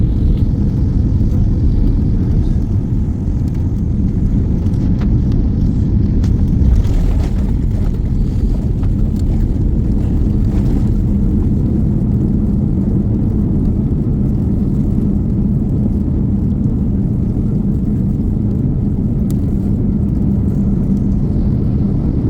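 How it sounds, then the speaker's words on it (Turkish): A China Eastern Airlines airliner lands on the runway at Tokyo, heard from inside the cabin as a loud, unbroken low roar of engines and rolling. It holds steady at the same level for the whole twenty seconds, with no speech. "Ve gürültüden de anlaşılacağı üzere piste iniş yaptık."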